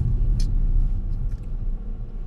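A car drives through a city at night, a steady low engine and road rumble heard from inside the cabin, close and continuous, with faint brief clicks and no talking.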